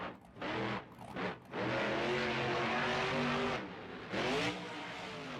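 The Stone Crusher monster truck revs its engine during a freestyle run at Raymond James Stadium in Tampa, Florida, with loud roaring bursts that rise and fall, broken by brief gaps and a stadium rumble.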